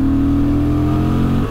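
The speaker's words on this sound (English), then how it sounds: "But the fun is that engine." A Honda XL750 Transalp adventure motorcycle's engine revs hard in third gear while riding, a loud, close, steady high-pitched drone that holds briefly and then starts to fall away.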